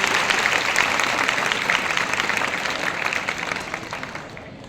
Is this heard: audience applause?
yes